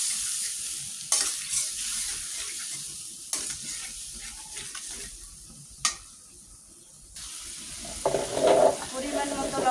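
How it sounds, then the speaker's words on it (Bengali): Spice paste (masala) being sautéed and stirred in a pan for a bottle gourd and fish curry, giving a steady soft sizzle with occasional spoon scrapes and stirring clatters, close and moderately loud, with no talking. "মশলাটি সুন্দর করে কষিয়ে নেবেন।"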